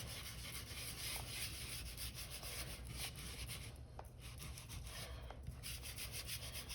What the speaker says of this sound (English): Just gonna rub it into the plate